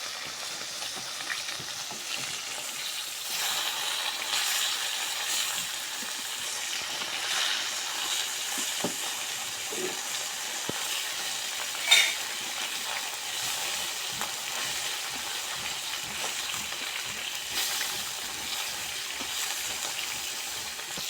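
Fish pieces coated in spice paste fry in hot oil in a pan, giving a steady, close sizzle with soft crackles and occasional stirring sounds throughout.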